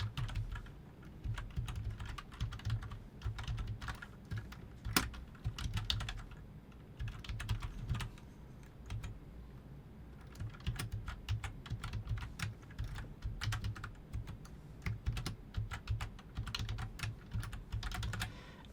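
Steady typing on a computer keyboard while entering an email address, a close run of quick key clicks with brief pauses and no talking.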